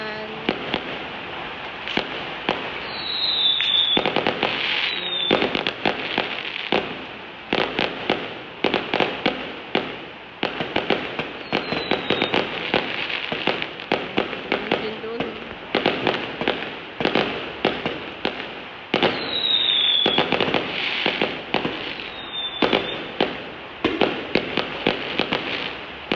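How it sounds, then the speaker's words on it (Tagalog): Firecrackers and fireworks crackle nonstop on the last day of Chinese New Year, a dense, loud barrage of rapid bangs with occasional whistling rockets rising over it, sustained throughout. "Inubos nila yung paputok nila."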